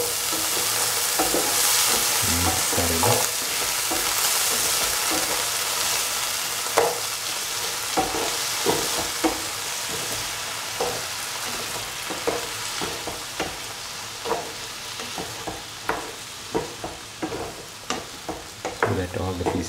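Bottle gourd pieces sizzle loudly in a hot pan for a Louki Tamatar ki sabzi stew, with a steady frying hiss and repeated scraping stirs of a spoon close by, growing more rhythmic toward the end.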